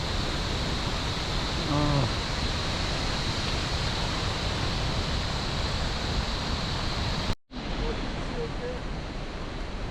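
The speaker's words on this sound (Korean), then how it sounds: "이곳에도 매미가 있나 봅니다. 매미 소리." A steady, dense buzzing hiss of cicadas on a Himalayan trail in Nepal fills the air, almost like rushing water, cutting out abruptly for a moment near the end before resuming.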